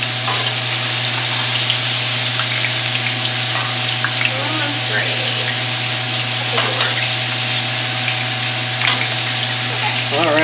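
Thin-sliced potato chips frying in oil on a Blackstone griddle, a loud, continuous close sizzle with crackling and faint scraping, no voices.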